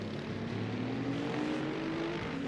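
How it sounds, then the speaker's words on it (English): BMW race car accelerating along the main straight at Portimao circuit during a night race: a steady, fairly distant engine drone with rising pitch, continuous and even in level. "BMW is very strong on the straight there."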